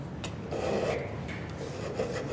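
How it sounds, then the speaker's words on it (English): A metal file rasps against a wooden post in a woodshop, close and fairly loud, in a few uneven rubbing strokes with brief scratchy bursts between them. "The file roughs it."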